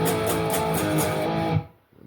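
Distorted electric guitar chords strummed in a quick rhythmic pattern with a half-step slide, several sharp strums ringing briefly before cutting off, followed by a short quiet gap and a faint new attack.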